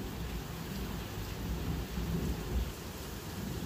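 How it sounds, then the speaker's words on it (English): A late-night thunderstorm with nearly constant lightning: heavy steady rain with continuous low rumbling thunder swelling and fading throughout. "It's just constant lightning everywhere."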